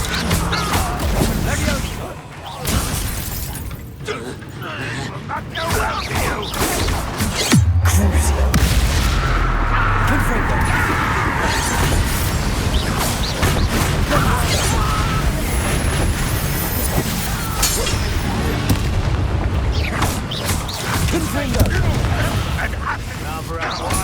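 Bombarda blasting-spell explosions from the video game Hogwarts Legacy crash and boom through a loud, busy fight, with a heavy low blast partway through, continuous rumbling afterwards and character voices speaking over the action.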